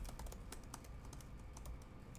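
Computer keyboard keys clatter in an irregular string of quick taps while physics simulation code is typed, faint and close over a steady low hum.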